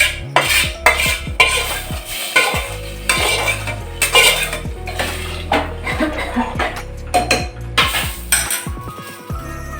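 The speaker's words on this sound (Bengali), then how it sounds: "ফোড়নটা ডালের মধ্যে ছেড়ে দিচ্ছি" Tempering poured into lentil dal in a pan, heard as repeated clanks and scrapes of a metal pan and spoon with a brief hiss, close and fairly loud, no talking.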